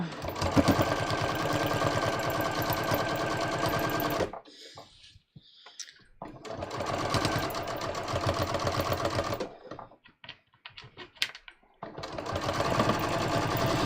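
Sewing machine stitching a dress: three sustained bursts of fast, even mechanical whirring, loud and close, separated by brief pauses filled with small clicks and fabric handling.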